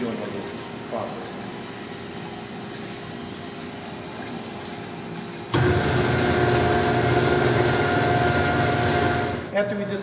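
A honing tool runs inside a hydraulic cylinder barrel in a repair shop, starting as a low whirring hum that jumps to a louder, steady grinding drone partway through, with a voice talking at times.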